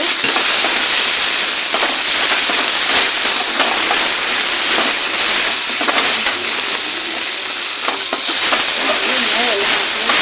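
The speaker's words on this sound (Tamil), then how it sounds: "நல்லா கலக்கி வச்சுக்கணும்" Crab masala with ginger-garlic paste and turmeric being stirred in a hot pan, a loud continuous hiss and sizzle with frequent scraping stirs, up close with no talking.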